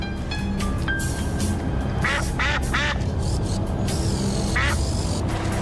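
Repeated nasal duck quacks in short bursts over steady loud background noise, close by and irregularly spaced.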